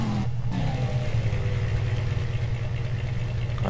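A bike engine in Empyrion hums steadily at a low, even idle-like drone, close and continuous with no talk.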